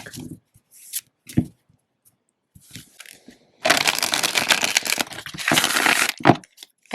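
A tarot card deck being shuffled by hand, with a few light taps and rustles before a dense, crisp riffle of cards lasting several seconds close up, then a brief trailing flutter.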